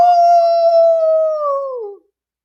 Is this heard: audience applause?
no